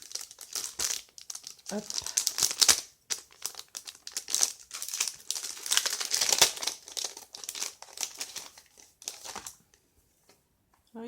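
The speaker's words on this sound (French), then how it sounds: "Je vais en ouvrir un paquet pour voir ce que ça donne." A plastic packet of scratch-art sheets is torn open and handled, producing close, bursty crinkling and rustling in uneven spurts, with a brief voice and a quiet pause near the end.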